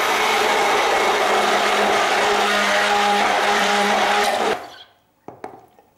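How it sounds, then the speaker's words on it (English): A stick blender whizzes homemade mayonnaise made with lemon, black pepper and mustard, a loud steady high-pitched motor whine for several seconds, then it stops, followed by a few small knocks. "Then a quick whiz up with a stick blender."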